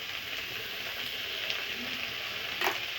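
Boiled greens sautéing with spices in a pan, a steady soft sizzle with a couple of brief scraping stir sounds, heard alone.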